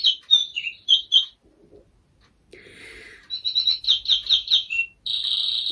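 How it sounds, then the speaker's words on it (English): Bird clock chiming indoors with recorded birdsong: bright repeated chirps and warbling calls in bursts, a short gap, then more lively trilling phrases, fairly clear and close. "Honestly, that bird clock, oh my goodness. It's every day it goes off."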